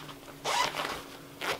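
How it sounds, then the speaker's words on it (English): Zipper on a small travel bag pulled in short quick strokes, two close raspy zips separated by a brief pause. "Got a little zipper."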